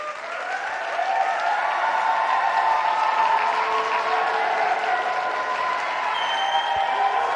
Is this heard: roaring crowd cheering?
yes